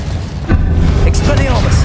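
An Incendio fire spell cast in Hogwarts Legacy lands as a sudden whooshing burst about half a second in, then a fiery rumble with bright crackling flickers that continues to the end. A voice is heard over it.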